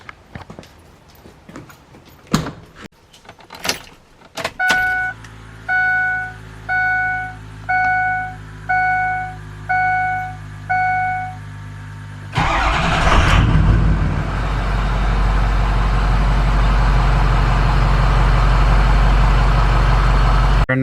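A Ford F250/F350 pickup with a 6.0 Powerstroke diesel gives a few clicks and a row of steady dashboard chimes, then the starter cranks and the engine catches into a loud, rumbling idle that holds to the end.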